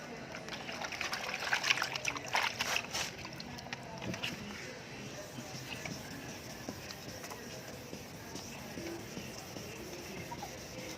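Water trickles and splashes steadily over a car headlight, louder at first and then settling into a softer flow.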